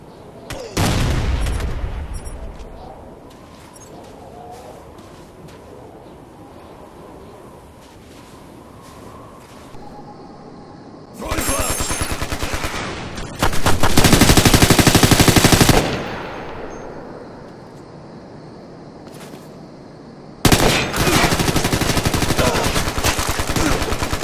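Frag grenade and gunfire in Ghost Recon Future Soldier: an opening blast, then long loud bursts of rapid automatic fire broken by quieter gaps, close and harsh.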